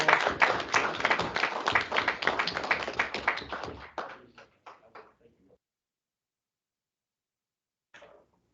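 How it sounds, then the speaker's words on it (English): A small group claps at a hospital district board meeting, steady applause for about four seconds that trails off into a few scattered claps, then a last faint clap after silence. "Let's give her a round of applause."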